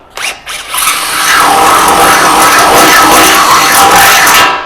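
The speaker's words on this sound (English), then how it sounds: "I'm going to drill that hole out." A power drill reams out a hole in a Shopsmith caster template, starting with a few short bursts and then settling into a loud, sustained whine of the bit cutting through the material, up close and alone.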